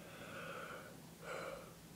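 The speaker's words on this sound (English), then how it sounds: "Sorry when I yawn like that" A person yawns twice, a long drawn breathy yawn followed by a second shorter one, close and fairly quiet with no talking.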